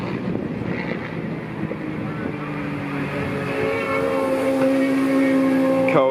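Kawasaki Ninja ZX-4R motorcycles race on the final lap at an amateur motorbike event, engines rising in pitch as they pass fairly close, under wind buffeting on the microphone with no clear talking.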